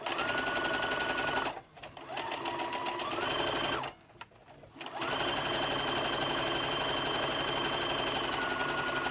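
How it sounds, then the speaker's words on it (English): A sewing machine hems the ends of curtain fabric for a valance, running loud and steady in long stretches broken by two brief pauses. "Okay, so we're gonna hem the ends of these first. Well, got my wrong presser foot."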